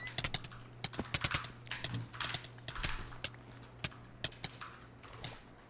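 Quick, uneven hoof clip-clops from a galloping horse in a video game, fairly close, with sharp clicks mixed in over a low steady hum.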